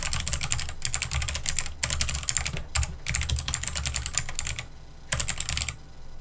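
Rapid bursts of typing on a computer keyboard, entering comma-separated keywords, with short pauses between runs of keystrokes; close and steady, no voices.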